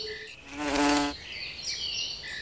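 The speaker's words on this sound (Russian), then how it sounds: "реагируют на жужжание журчалки." A hoverfly buzzes close by in one short, swelling drone lasting about half a second, rising and fading over quiet background hiss.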